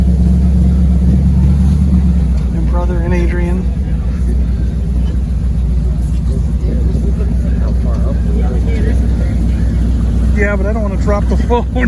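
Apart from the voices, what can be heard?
swamp buggy engine during an Everglades ride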